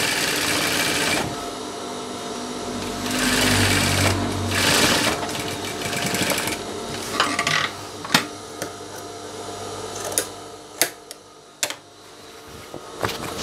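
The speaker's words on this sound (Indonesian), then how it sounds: "Di bagian ujung kita pegang, kemudian kita jahit sampai ke ujung." An electric sewing machine stitches a waistband onto elastic-waist shorts, running fast in a close, continuous whir, then slowing and stopping, followed by scattered sharp mechanical clicks and knocks.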